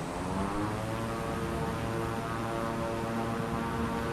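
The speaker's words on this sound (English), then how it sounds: "While my engine's going full blast." A LEGO toy airplane's propeller engine roars at full throttle, a loud, steady, unbroken drone with no voices.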